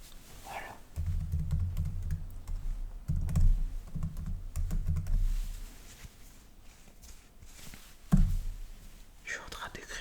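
Soft keyboard typing in an ASMR role-play setting, steady close clicking for several seconds with a brief thump near the end, while a voice whispers throughout.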